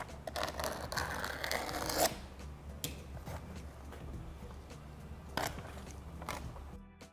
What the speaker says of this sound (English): Take your razor blade, cut across.